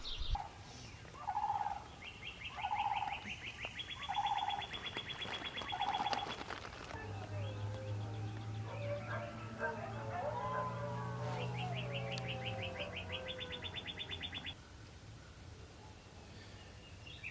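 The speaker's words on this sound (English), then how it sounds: "there's just like a chorus of coyotes and barred owls and birds this morning and roosters crowing" Early-morning outdoor chorus in Florida: a turkey-like gobbling call repeats several times, joined by chirping birds, rising yips and howls of coyotes and a long low call, all fairly distant and faint against steady background noise.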